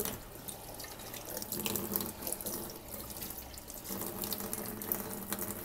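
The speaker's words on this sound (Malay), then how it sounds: "Dan bahagian tentacles ini just lalukan air." Tap water runs steadily over the tentacles of a very large squid in a kitchen sink, a continuous close splashing stream with no talking.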